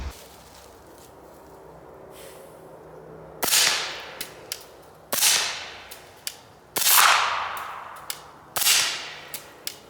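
Suppressed .300 Blackout rifle firing Winchester 200 grain subsonic rounds, heard outdoors from about 30 yards: four sharp cracks spaced a second or two apart, each with a short decaying tail, plus a few smaller ticks between them.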